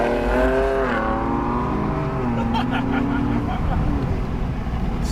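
A Ford Ranger Raptor accelerates hard in a drag race, its engine note loud and close with a rising pitch that drops and climbs again through gear changes.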